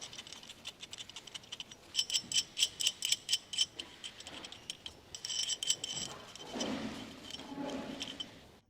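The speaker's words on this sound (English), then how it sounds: "Remove the nut." A ratchet wrench loosens the nut on a BMW 325ci E46 strut top mount fitted with an adjustable camber spherical bearing. It gives quick bursts of sharp, close mechanical clicks, then fainter metallic handling noises.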